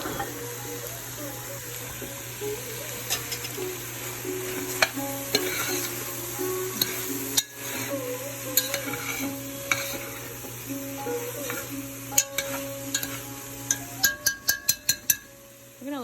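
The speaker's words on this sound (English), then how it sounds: "We're gonna let this saute down and allow all those flavors to adhere to the vegetables" Vegetables for a vegan curry sauté in a pan with a soft, steady sizzle while a spoon stirs them, and a brief run of sharp clinks and scrapes comes near the end.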